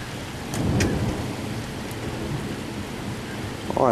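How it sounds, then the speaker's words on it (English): Steady heavy rain pours through a thunderstorm, with deep rumbling thunder swelling early on and continuing underneath, and a sharper crack or sound bursting in right at the end. "Oh, I love thunder."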